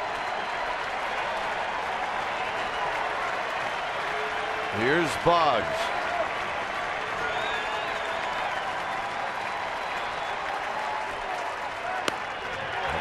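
Sellout ballpark crowd at a Texas–San Francisco baseball game on Father's Day, a constant loud roar and applause filling the whole stretch, with a commentator talking over it.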